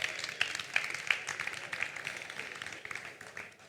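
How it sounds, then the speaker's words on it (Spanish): Scattered, fairly faint applause from an audience at a rice cooking demonstration during a gastronomy event, irregular claps rising and thinning over several seconds. "Se puede aplaudir, ¿eh? Se puede aplaudir, no pasa nada"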